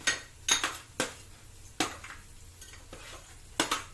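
Chopped tomato being stirred into browning food in a pot: a spoon scrapes and clinks against the pot in several short strokes over a soft sizzle, fairly close and moderately quiet, with no talk.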